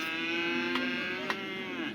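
Bull calves under a year old moo at a cattle market in Namakkal, a steady drawn-out low call lasting the whole moment, close and loud, with two brief sharp clicks partway through and no talk.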